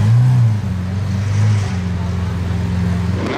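A Lamborghini SVJ Roadster supercar rumbles past at close range in Monaco, its deep engine note swelling briefly and then settling into a steady drone.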